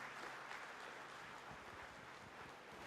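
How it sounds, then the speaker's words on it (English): Quiet, distant audience applause for guests at an evening talk event, steady and diffuse clapping throughout with faint low rumble underneath. "A big round of applause once again,"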